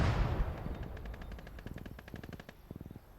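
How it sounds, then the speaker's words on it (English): Gunfire in a WWII tank combat video game: a heavy boom at the start decaying into rapid machine-gun bursts, then a second short rattling burst, fairly loud with no talk. "Oh, it's him that's firing his cannon."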